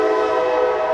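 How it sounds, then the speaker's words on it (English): Kansas City Southern Railroad train sounding its horn close by, a loud sustained chord blast running through the whole short clip. "I want to apologize for the Kansas City Southern Railroad."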